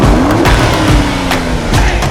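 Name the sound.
remapped Alfa Romeo Giulia Quadrifoglio 2.9 V6 bi-turbo driving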